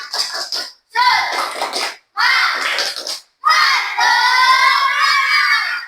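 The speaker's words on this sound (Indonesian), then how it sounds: "Berikan semangat untuk kelompok B. Tepuk semangat." Classroom children clap and cheer in unison for a group, several loud bursts of rhythmic clapping with shouted chanting voices, pausing briefly between bursts, close by.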